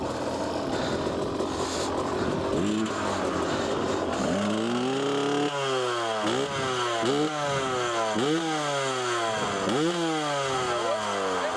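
An enduro motorcycle engine is revved hard over and over to warm up, a string of loud rising and falling throttle blips close by after a rougher idle at the start.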